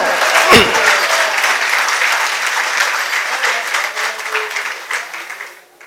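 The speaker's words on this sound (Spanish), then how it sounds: "Pido un poderoso aplauso al Dios soberano" A church congregation bursts into loud, sustained applause for God after a preacher's call, dense clapping filling the space from the first moment and tapering off near the end.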